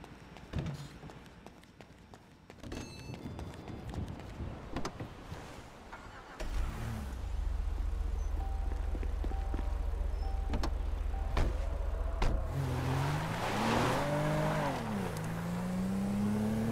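A car driven in Grand Theft Auto V, engine droning low and steady for several seconds, then rising and falling in pitch as it revs, preceded by scattered clicks and bumps.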